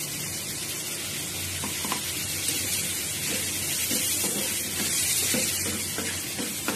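Water goes into a pan of frying spices and banana flower, and a broad, even sizzling hiss with a little steam follows, mixed with faint stirring scrapes. It holds at a moderate level the whole time, with no voices.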